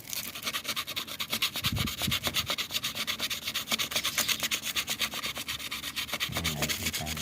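An electric fan shaft being sanded smooth near its bushing, giving a steady, rapid back-and-forth rasping rub that runs continuously throughout, close and fairly loud, with no talking.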